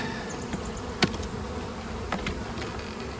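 A soft, steady buzzing of many honeybees around an open hive fills the air, with occasional closer bees droning past and faint light knocks.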